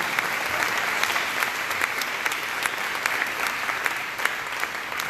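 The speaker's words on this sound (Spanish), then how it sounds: "démosle unas palmas a ese hermoso Dios que no nos ha dejado ni nos ha abandonado" A church congregation claps during a sermon, steady rhythmic applause from many hands, even and sustained throughout.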